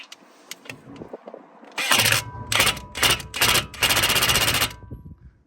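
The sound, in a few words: impact gun tightening tie rod end on Toyota Avensis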